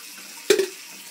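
A brief splash of tap water runs from a faucet, a short burst standing alone against quiet background hiss.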